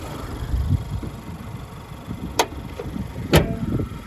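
A 2013 Honda Accord four-cylinder engine idles with a low, steady hum up close under the open hood, broken by two sharp clicks or knocks, with no talking.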